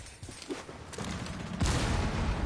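Blast from a grenade thrown in a Rainbow Six Siege esports match, clearing out a Maestro defender; a loud burst of gunfire-like cracks and booms grows dense and heavy toward the end of the short stretch.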